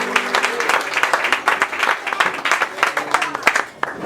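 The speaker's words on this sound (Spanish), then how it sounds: "Denle un aplauso al Señor." Congregation clapping at a ministerial church reunion in Pearsall, Texas, sustained applause from a crowd with a faint murmur of voices underneath.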